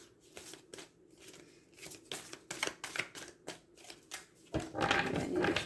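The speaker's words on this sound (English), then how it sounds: "I need to shuffle some more." Tarot cards are shuffled by hand in a series of quick, close riffling bursts separated by short pauses, ending in a longer, louder shuffle.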